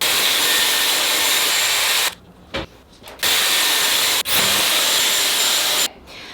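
A Dyson Airwrap hair styler blows a loud, steady broadband rush of air, cutting out briefly several times and starting again, with no talking.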